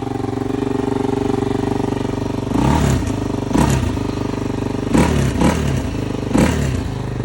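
A motorcycle engine idles steadily close by, then gives several short, sharp revs in quick succession before settling back to a steady idle.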